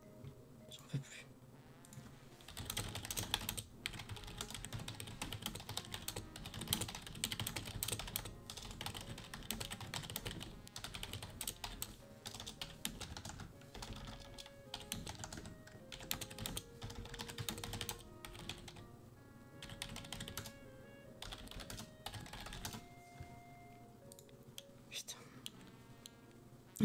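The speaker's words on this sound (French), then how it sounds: "ASMR clavier." Close, soft computer keyboard typing in a quiet room, a steady patter of light key clicks with brief pauses, while someone whispers and faint music plays underneath.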